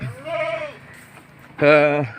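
Goats in a goat shed bleat loudly close by, one long wavering call followed after a brief pause by another strong bleat.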